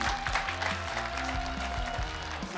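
A television studio audience on an Armenian comedy show applauding a guest named Garik, with moderate clapping running over background show music.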